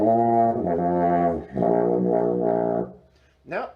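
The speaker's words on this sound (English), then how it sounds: "You get a euphonium." A euphonium, a large brass instrument, plays sustained low notes in a few held phrases with rich harmonic tone, followed by a brief rising sweep at the end.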